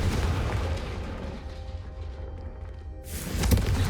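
A Confringo blasting spell from Hogwarts Legacy goes off as a loud, rumbling fiery explosion with a sustained low roar, then a second sharp burst near the end, with no speech.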